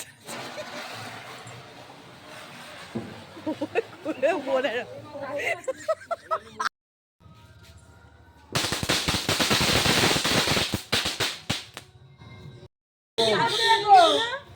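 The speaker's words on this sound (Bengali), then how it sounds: "সবাই মিলে বাজি ফাটালাম একটু" Firecrackers burst during Kali Puja celebrations in rapid, loud crackling volleys, one long chain of pops dominating the middle, with a crowd chattering and shouting before and after.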